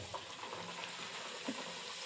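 Dhapate flatbread fries in a kadhai with a brief, close, steady sizzle and no voices.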